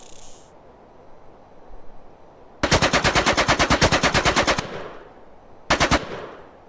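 Automatic gunfire in the video game Black Bag: a long rapid burst of evenly spaced loud shots, a pause, then a short second burst, with faint ambience between.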